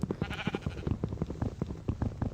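Sheep in the Minecraft modpack Project Ozone 2 bleat in a dense, overlapping chorus of short, repeated calls, close and continuous with no talking.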